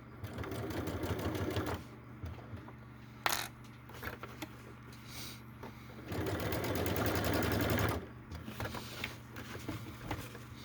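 A sewing machine stitching a bag of varying thicknesses runs in close, rapid bursts of mechanical whirring, with brief pauses and small clicks between stretches of stitching.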